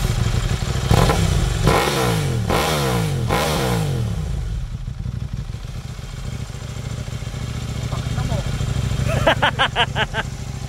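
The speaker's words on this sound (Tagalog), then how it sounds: "tinanggal yung silencer ng B-Max" A Honda Beat-style scooter (B-Max) with its exhaust silencer removed revs hard in several loud, raspy bursts, then settles into a rough idle with a brief rapid rev near the end, amid outdoor chatter at a café bike meetup.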